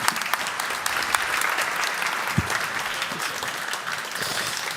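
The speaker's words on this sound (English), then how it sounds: "please join me in applauding and thanking the lovely panelists on stage for their insights" Sustained audience applause for the panelists at the Tallinn Digital Summit 2023, a thick, steady roar of many hands clapping for several seconds with a faint thump partway through.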